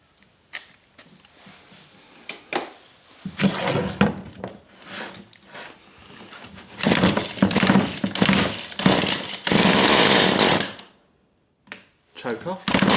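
A two-stroke chainsaw that has been running poorly is pull-started and then runs up loud and harsh near the microphone. It cuts out briefly and fires again, with some speech early on before the engine catches.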